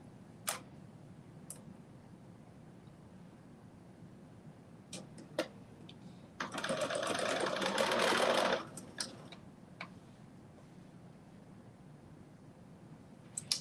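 A sewing machine stitches a 5/8-inch seam on McCalls 8447 joggers in one short, close, steady burst of about two seconds, with quiet clicks and ticks from handling before and after.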